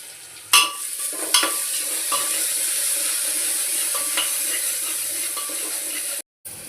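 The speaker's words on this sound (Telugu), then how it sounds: "ఉల్లిపాయ బాగా ఎర్రగా వేయగాలండి" Onions fry in a pan for a curry, a steady close sizzle broken by a few sharp utensil knocks and stirring scrapes, cutting out briefly near the end, no talking.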